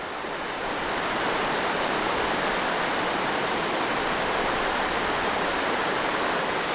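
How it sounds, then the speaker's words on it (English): Spring water gushing straight out of rock at Big Springs along a hiking trail, a loud, continuous rushing roar heard close up with no voices. "It's just gushing right out of the rock right there."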